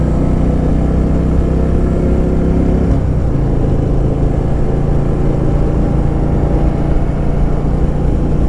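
A loud Harley-Davidson Softail Deluxe motorcycle engine rumbles steadily at cruising speed on a city boulevard, with a brief gear change midway and constant low droning throughout.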